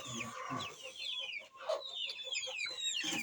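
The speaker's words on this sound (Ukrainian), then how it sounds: "Ви дуже такі гарні курчі" Chickens cluck and chirp in a busy farmyard, with a steady stream of overlapping hen calls close by, busy throughout without pause.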